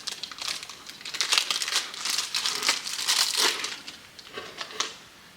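Packaging for a smart door lock's internal chime crinkling and crumpling as it is unboxed, a close, busy rustle of plastic and paper that rises and falls over several seconds with no talking.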